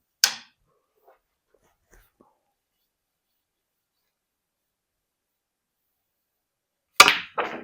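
Snooker cue striking the ball, a sharp close click followed by long silence, then another crisp knock with a short rattle of balls near the end.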